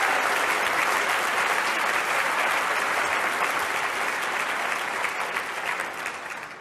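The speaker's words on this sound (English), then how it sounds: "Can we have a round of applause for all the high school students that are in here?" A large audience claps loudly and continuously for high school students at a question-and-answer event, with dense, even applause that stays strong and tapers only slightly toward the end, and no talking.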